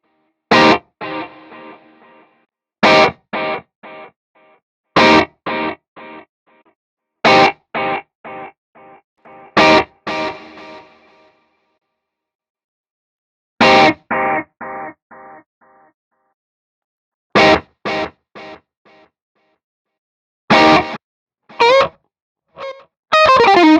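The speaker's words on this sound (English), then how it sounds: "But let's start at the top and just hear how these delays repeat." Electric guitar run through a Fractal stereo delay, playing short strummed chords and picked notes in separated bursts, each hit trailing off in quick fading repeats; bright, distorted tone with no voices.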